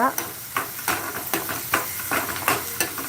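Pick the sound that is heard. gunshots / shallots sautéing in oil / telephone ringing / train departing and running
shallots sautéing in oil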